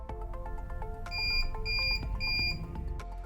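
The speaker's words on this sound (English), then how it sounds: "press and hold the reset button for 5 seconds until you hear 3 long beeps" Three long, high electronic beeps from a Yale Libi digital lever lock being reset sound in even succession over a low background hum.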